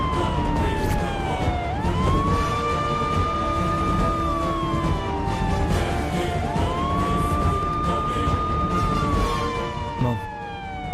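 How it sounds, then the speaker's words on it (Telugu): A police siren wails in slow rising and falling sweeps, repeating twice over about eleven seconds, loud and fairly near, over a background of traffic noise. "Police siren వినబడుతుందేంటి?"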